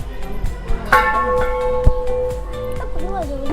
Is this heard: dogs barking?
no